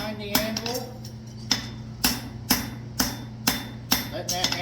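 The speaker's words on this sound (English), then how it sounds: "letting that hammer fall" A blacksmith's hammer strikes a horseshoe on an anvil about seven times in an even rhythm, each blow a sharp, loud, ringing clang with a brief metallic decay over a low steady hum.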